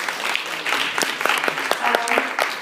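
An audience claps for the participants of a cyberpunk panel at a convention, with close, distinct individual claps over a moderate crowd patter that fluctuates through the whole span.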